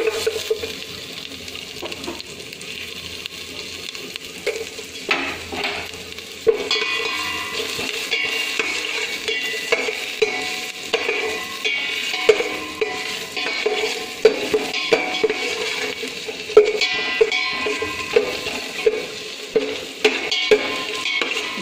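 Ginger and garlic fry in butter over a low flame in a pan, sizzling quietly while a utensil stirs and scrapes at a steady, repeated rhythm; the sound grows a little louder partway through, with no talking.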